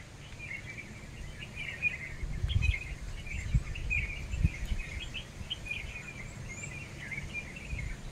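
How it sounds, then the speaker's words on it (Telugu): Various birds calling in a natural farming food forest, faint chirps and twitters scattered over low outdoor rumble and insect hum, fairly distant, no speech. "రకరకాల పిట్టలు రణగణ ధ్వనులతో వెళ్తూ ఉంటాయి"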